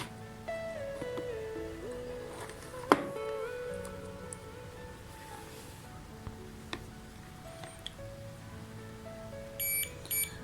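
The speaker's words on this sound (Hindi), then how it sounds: "ये आप देख सकते हैं, ये बीप की आवाज़ आ रही है आपको।" A multimeter in continuity-test mode sounds as its probes touch the common and contact terminals of a changeover relay. Short beeps come in quiet, close surroundings, with soft clicks of the probes between them.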